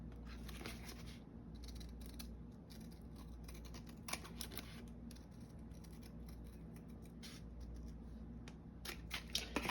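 Scissors snip through paper while envelopes are cut out, a series of small close crisp cuts at an uneven pace over a quiet steady background hum.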